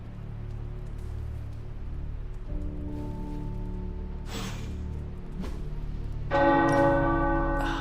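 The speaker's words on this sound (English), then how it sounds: "The tower bells are ringing." Tower bells ring in a PS5 video game, rising out of a quiet rain-like ambience and swelling into a loud, sustained chime near the end.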